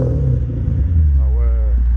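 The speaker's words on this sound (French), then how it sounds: "Vas-y, accélère un peu, voir." A Lexus IS200 drift car fitted with a V8, with a freshly repaired valve cover gasket, rumbles at idle, then revs up and settles back, loud and close, with a voice briefly audible.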